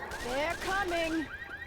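A car alarm in Left 4 Dead 2, a loud warbling electronic siren with rapid repeating pitch sweeps, near and alone for under two seconds.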